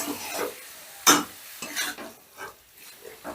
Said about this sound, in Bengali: এবার মিনিট 2-এর মতো নাড়াচাড়া করে চিকেনটাকে একটু মশলার সাথে বেশ ভালো করে মিশিয়ে নিতে হবে।